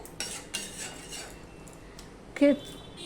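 Spoon stirring dal into pumpkin greens in a pan, a few soft scrapes and light metallic clinks, ending in one sharper clang close by.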